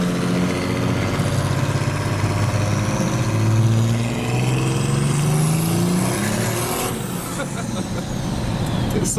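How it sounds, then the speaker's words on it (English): A 500 hp turbo diesel truck with a large side-exit exhaust pipe roars loudly up close, revving and climbing in pitch with a rising turbo whistle, while people talk over it. "we should be able to hear the turbo diesel noises too"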